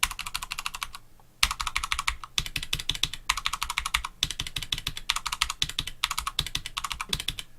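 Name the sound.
typing on Cherry MX Brown and Roccat Titan keyboard switches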